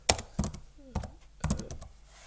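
A computer keyboard is typed on in a few sharp, separate key clicks spaced across two seconds, close and distinct, alongside faint speech.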